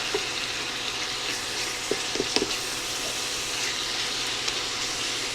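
Ground beef browning in a pan for a casserole gives a steady close sizzle, with a few sharp clicks and scrapes of a utensil stirring near the middle; no voices.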